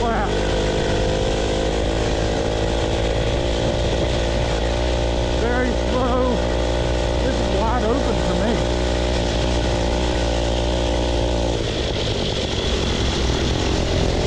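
A 2HP two-stroke washing machine engine powering a mini bike rides a lap, its loud buzzing drone steady and close throughout, rising and falling slightly in pitch, dropping away near the end.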